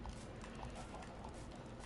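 Horse hooves clip-clop in the Minecraft video game, a soft, steady run of muffled hoof steps under a dense, noisy game background with no talking.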